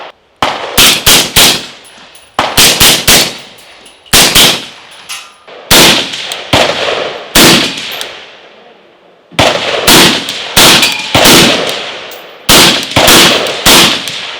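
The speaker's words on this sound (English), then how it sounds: "So shooting it suppressed is legit." Suppressed shots from an ARX rifle fitted with a Griffin Optimus silencer, fired in quick bursts of three to five sharp, loud cracks, with brief pauses between strings and no talking.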